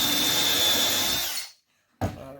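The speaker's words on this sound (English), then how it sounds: "I need to pre-drill my holes." A power drill pre-drills holes in wood, whirring loudly and steadily for over a second before stopping, then briefly spinning up again.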